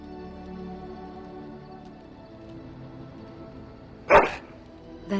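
A single short, sharp dog bark from a companion dog in the fantasy video game Dragon Age Origins, standing out loud and close against a steady low ambient game background.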